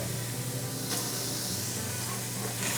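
Mushrooms and diced yellow onion sauté in an oil-free pan, giving a steady, close hiss of sizzling with a low hum underneath and no talking.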